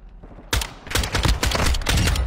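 Video game gunfire erupts after a brief quiet start into loud, rapid overlapping bursts of automatic shots that continue steadily to the end, with no speech.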